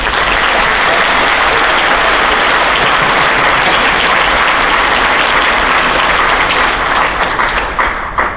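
Loud, dense applause from a large audience at a county school choral festival, honoring the choir directors; a continuous roar of clapping that thins slightly at the end.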